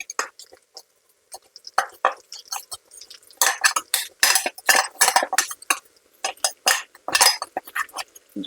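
A spoon clinks and scrapes against a pan as chili powder is mixed into a Guntur-style bitter gourd fry, in bursts of sharp metallic taps and scrapes, close and fairly loud, separated by brief quiet gaps.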